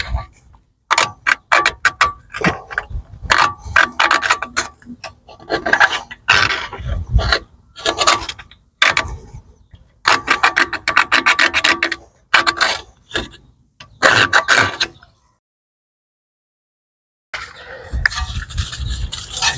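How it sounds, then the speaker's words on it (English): Screwdriver scraping grime off the wheel bearing hub of a BMW E92 3 Series during a front bearing change, a close series of irregular scratchy scrapes and clicks, pausing near the end before resuming. "just clean this off with a screwdriver."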